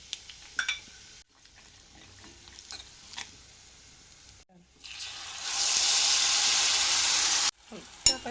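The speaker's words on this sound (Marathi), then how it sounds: "ते तेल सुटेपर्यंत त्याला परतून घेऊया." Black masala sautéed in oil with cumin, mustard seeds and curry leaves in a pan, with intermittent stirring and scraping clatter that gives way to a louder, steady sizzling hiss near the end.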